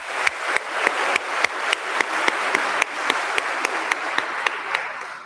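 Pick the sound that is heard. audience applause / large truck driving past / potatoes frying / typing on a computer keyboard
audience applause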